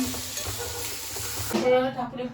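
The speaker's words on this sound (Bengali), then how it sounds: "এখানে হচ্ছে বাঁধাকপি ভাজা।" Shredded cabbage fries in a home kitchen during a Bengali family's Sunday cooking, with a low, even sizzle. Stirring scrapes and background household voices rise near the end.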